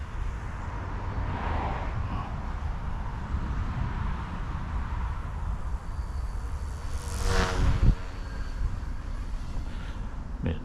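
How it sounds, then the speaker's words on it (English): A small E150 RC helicopter flies outdoors in light wind, its steady motor and rotor whine continuous throughout, with a brief louder swell as it passes closer near the end. "It's a nice little heli, man."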